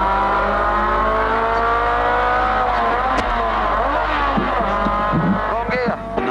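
A Holden race car engine screams at Bathurst, loud and close throughout, with the pitch sweeping down and up through gear changes and a brief tyre squeal near the end.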